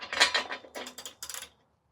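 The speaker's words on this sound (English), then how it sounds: "we'll torque it down with the O2 sensor socket and ratchet" A socket ratchet tightening an O2 sensor on a 2008-or-later Subaru WRX STI: several quick bursts of close, crisp ratcheting clicks over about a second and a half, then silence.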